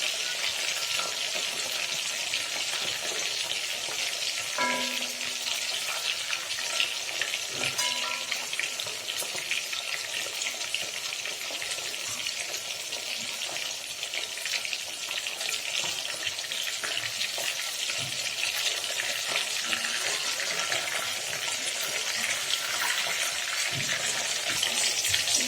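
Raw minced beef cutlets with ginger and garlic pieces frying in a pan, a continuous loud sizzle of oil with occasional clinks of a utensil, steady for the whole stretch without talk.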